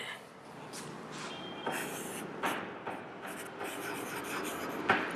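Marker or chalk writing on a board during a chemistry lesson on biomolecules, with scattered scratchy strokes in irregular bursts over a low room hum, fairly close and moderately loud.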